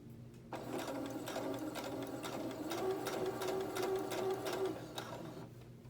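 A sewing machine runs a steady straight stitch across satin bonnet fabric, its needle chatter rhythmic and close, with a faint higher whine rising partway through before the motor stops.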